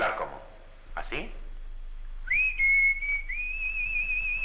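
After a few brief spoken sounds, a person whistles a clear, steady high note for about two seconds, nearby and fairly loud.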